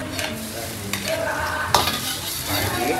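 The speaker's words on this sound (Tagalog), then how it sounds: "Gagamitin natin ng konting oil. Konting oil lang." Garlic sizzles steadily in a little oil over onion as it is stirred, with a few sharp scraping clinks of a utensil against the pan and no talking.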